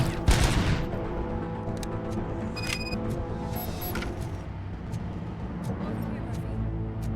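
Rapid bursts of gunfire from the video game RoboCop Rogue City, a sharp volley at the start followed by steady, dense shooting and impacts under a continuous rumble of game noise.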